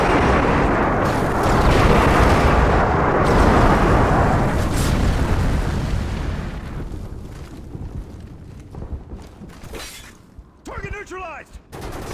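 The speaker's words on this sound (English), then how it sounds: "Enemy airstrike approaching." Airstrike explosions in the video game Modern Warfare 3: a loud, sustained blast-heavy rumble for about six seconds that gradually fades into quieter crackling debris, with a brief voice-like burst near the end.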